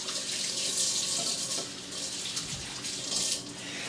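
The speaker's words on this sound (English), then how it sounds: "Wash your hands one more time just to make sure." Tap water runs steadily into a sink as hands are washed during ribs prep, a continuous hiss and splash close by with small shifts in flow and no voices.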